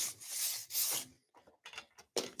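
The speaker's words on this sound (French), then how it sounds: "De nouveau, un coup de ponçage." Sanding the freshly cut and snapped edge of a Quick Step Incizo laminate floor profile, heard as a few close, loud scraping strokes separated by short pauses.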